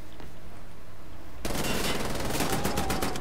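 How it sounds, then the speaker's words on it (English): A heavy mounted gun in Wolfenstein: The New Order opens up after a quiet second and keeps hammering in a loud, rapid, continuous burst, with rattling impacts over the steady stream of shots. "priority number one is that, that heavy gun there"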